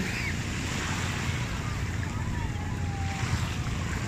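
Sea surf rolling onto the shore at Masasa Beach in Tingloy, Batangas, a steady close wash of water with wind buffeting the microphone throughout.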